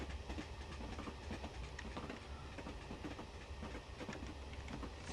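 A train coasts into Kirkmacken station, a steady rolling rumble with faint rhythmic clickety-clack of wheels on rail joints, moderately distant and continuous, with no voices.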